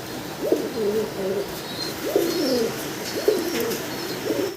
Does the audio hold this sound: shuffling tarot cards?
no